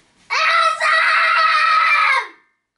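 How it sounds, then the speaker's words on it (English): A child lets out one loud, sustained scream of about two seconds in a hotel room, with a brief catch near the start, then silence. "no screaming in the hotel room"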